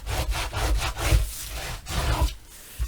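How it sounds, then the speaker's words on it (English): Repeated rubbing strokes of a burnishing tool pressed over paper on a mini album cover, a rhythmic series of close, fairly loud scraping passes with short pauses between, no talking. "I'm going to take a couple seconds to burnish"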